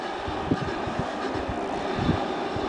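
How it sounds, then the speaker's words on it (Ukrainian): The sliding roof of a laser-location observatory station in Briukhovychi rolls open with a continuous low rumble and rhythmic clunks, like wheels passing over rail joints. "Класно з'їхав дах."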